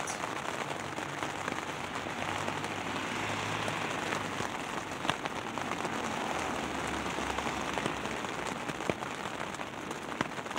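Steady rain patters on a hard surface, a dense, even hiss of drops that holds for the whole stretch with no voices over it.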